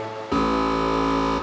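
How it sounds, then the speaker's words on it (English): Low-pitched, grungy buzz from the first oscillator of the Massive software synthesizer switches on abruptly and holds steady for about a second, rich in harmonics and alone without speech. "This is the first oscillator to let you hear what that sounds like"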